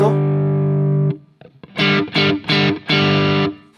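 Electric guitar played through an effects pedal overpowered by an MXR Iso-Brick power supply, giving a thicker, richer and slightly less distorted tone: a sustained chord rings out, then several short strummed chords hit in quick succession, loud and up front.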